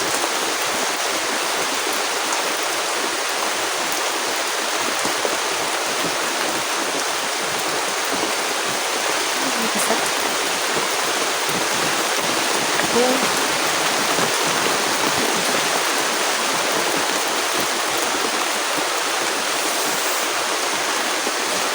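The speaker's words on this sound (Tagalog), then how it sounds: "Malakas na yung ulan, guys." Heavy rain pours down in a dense, steady hiss, constant and loud from start to end with no breaks.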